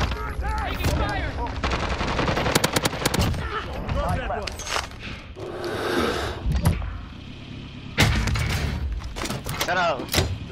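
Video game gunfire crackles in rapid automatic bursts with heavy thumps and clattering impacts, loud and close. Excited voices shout over the shooting.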